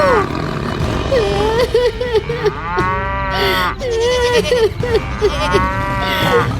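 Cartoon cows low in a series of loud, drawn-out moos amid a roaring white tiger attack on cattle and goats, with excited animated voices and dramatic effects mixed in.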